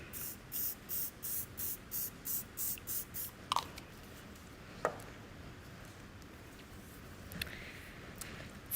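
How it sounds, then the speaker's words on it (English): Hairspray sprays onto a styled wig in a quick series of about nine short, hissing bursts, close and moderately loud, followed by quiet handling noises. "as I go, I like to use some hairspray just to hold what we've already done."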